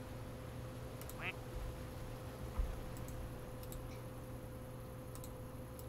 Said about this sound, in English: Ooh, ducks. I love myself some ducks.